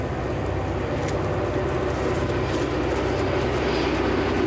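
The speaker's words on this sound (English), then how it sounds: "And again, another train is coming." A commuter train rumbles steadily along the C&O Canal near Point of Rocks and Brunswick, Maryland, a loud continuous roar of wheels and engine filling the whole moment with no voices.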